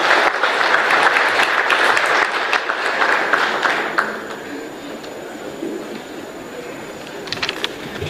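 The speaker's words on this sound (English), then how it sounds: "a better round of applause for this Honorable Attorney General of the Republic of Kenya" A large audience applauding the Attorney General of Kenya at an election report launch, dense clapping that is loud at first, then eases to a softer patter and scattered claps.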